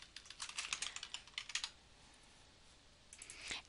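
Someone types on a computer keyboard while entering project data, bursts of quick, crisp key clicks close by, a pause, then a few more keystrokes.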